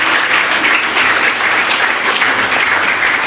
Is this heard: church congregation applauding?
yes